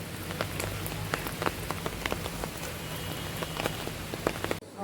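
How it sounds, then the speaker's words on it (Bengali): Steady rain pattering on a surface, with dense scattered drops throughout and a few louder splats, no voices. "আজ আর সারাদিন এই বৃষ্টি থামবে না"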